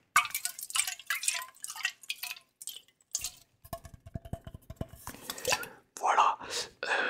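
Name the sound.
spray bottle misting water onto hair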